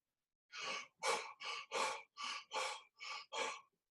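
Eight slow, deep breaths are taken during a meditation, each an even, close-up airy rush separated by short pauses, with no talking.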